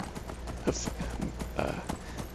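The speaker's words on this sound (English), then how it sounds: "Runneth up the mountain, horse." Horse hooves in Skyrim pounding in a quick, regular galloping rhythm up a mountain path, fairly close and continuous under faint background sound.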